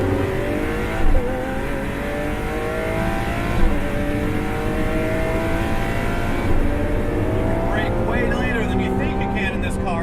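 Lamborghini Aventador LP700-4 engine pulls hard through its gears, a loud climbing howl with pitch sweeping up, briefly dipping at shifts, and rising again, while someone talks over it.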